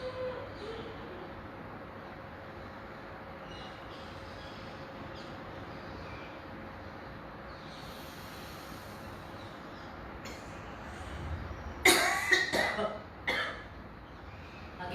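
A short cluster of coughs breaks out near the end after a long stretch of quiet low rumble.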